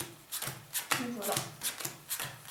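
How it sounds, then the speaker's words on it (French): A deck of playing cards shuffled during a magic trick, with cards turned face up and face down, giving quick rhythmic riffling bursts, several in a row at close range. "Il faut bien perdre ces cartes dans le paquet."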